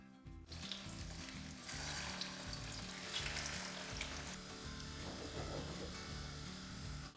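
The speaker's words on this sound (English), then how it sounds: "I've heated the oil to 180 degrees, and now we're going to fry the meatballs" Meatballs frying in oil heated to 180 degrees, a steady loud sizzle and crackle running throughout with faint clinks, low background hum underneath and no talking.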